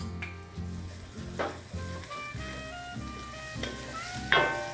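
Tomato paste cooking in a pan for grillades gives a close, steady sizzle, with a spoon scraping and stirring in a loose rhythm and a few sharper clinks.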